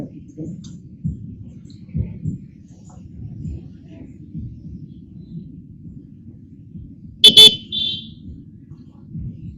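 Roadside traffic in Mangaon rumbles low and steady, then one short, sharp car horn honks near the end over the engine noise.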